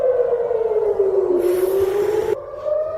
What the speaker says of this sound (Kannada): ಸೊ ಸೈರನ್ ಸ್ಟಾಪ್ ಆಯ್ತು